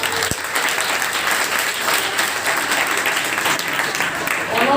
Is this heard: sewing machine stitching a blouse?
no